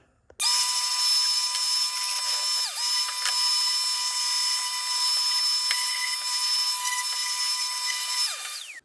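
A loud power sander starts abruptly on wood and whines steadily for several seconds, briefly dipping in pitch midway, then winds down at the end.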